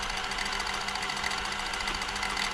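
A Silver/Pfaff 1139 sewing machine runs on stretch stitch with a steady, close, continuous mechanical whir and rapid rhythmic clatter that keeps an even pace throughout.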